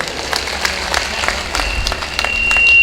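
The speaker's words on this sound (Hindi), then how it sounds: "मैं चाहता हूं ये सदन एक बार तरुण फाउंडेशन और तरुण राठी जी को बधाई देने के लिए जोरदार तालियों से।" An audience at a Hindi poetry gathering breaks into applause, a steady patter of many clapping hands that swells louder toward the end.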